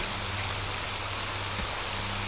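Steady rain hisses evenly and continuously in a STALKER Shadow of Chernobyl game scene, a broad wash of falling water with a low background hum and no voices.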